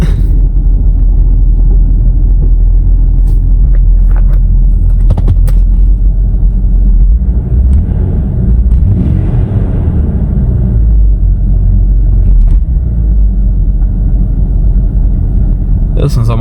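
A Ford Ranger with only headers and a downpipe idles loud and close after a cold start, a continuous deep rumbling drone with a rise in revs partway through, with people talking over it.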